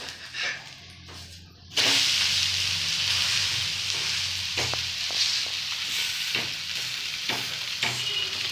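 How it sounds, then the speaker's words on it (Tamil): Adai dosa batter sizzles loudly on a hot pan as the dosa is flipped, with a steady frying hiss and a few soft scraping taps over it after a quieter start. "தோசை வந்துட்டு மாற்றி போட்டுடலாம்."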